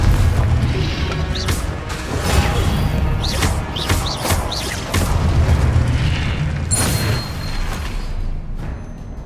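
Confringo blasting spell explosions in Hogwarts Legacy, a loud continuous barrage of booming blasts and crashes with rising whooshes and debris, dense and close with no talk.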